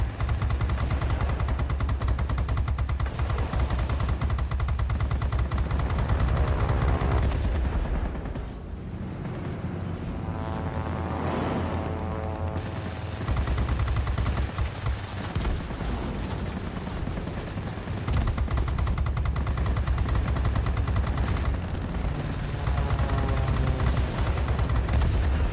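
Aircraft machine guns in World of Warplanes chatter in long, continuous bursts over a droning engine, loud and close, pausing briefly midway before firing resumes.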